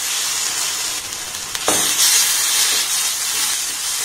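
Onion, chili and ginger-garlic paste sizzle and hiss steadily in hot oil in a pan, with a scraping stir partway through and a brief rise in spluttering, close and fairly loud with no talking.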